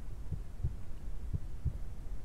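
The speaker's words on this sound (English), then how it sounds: "I know y'all can hear that heartbeat" A heartbeat in the horror video game Tape pulses in slow, muffled low thuds, about four beats in paired rhythm over a steady dark hum, with no talking.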